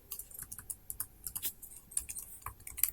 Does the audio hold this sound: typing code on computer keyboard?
yes